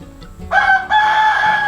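A broody Ameraucana hen sitting on eggs gives two drawn-out, tonal calls close by, the second longer and steadier, with no talking.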